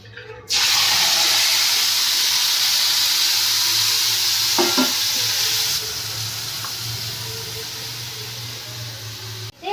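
Cumin seeds sizzling in a little white oil, then tamarind dropped into the pan for a golgappa chutney, bringing a loud, steady frying hiss that starts abruptly and eases slightly partway through, with brief stirring clatter.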